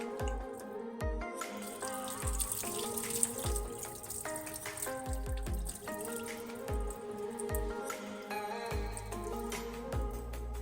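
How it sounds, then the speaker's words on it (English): Dirty rice water pours and trickles out of a bowl into a sink, a continuous splashing stream with occasional drips, close and moderately loud. "And then you have to drain the dirty rice water out of the bowl."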